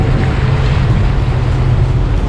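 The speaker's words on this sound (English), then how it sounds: "Well, we've been water shuttling for about 2 minutes now." A water shuttle boat heads across open water toward the Catalina Island port, its engine giving a steady, loud, close rumble mixed with rushing water and wind, with no talking.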